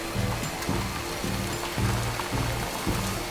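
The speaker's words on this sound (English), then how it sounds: "Just a little bit of rain." Steady rain patters in the video game Death Stranding, a constant wash of drops, while low rhythmic tones pulse beneath it at regular intervals.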